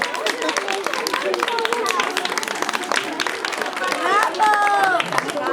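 An audience claps and cheers for young children on stage at an Oki Doki Avan performance. The applause is steady and dense, with crowd chatter mixed in and some whistles or calls near the end.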